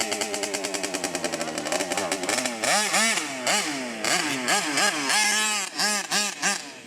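Losi 5T RC truck with a 71cc gas engine, first buzzing in rapid pulses, then revving hard in repeated rising and falling bursts, loud and close, out in a field.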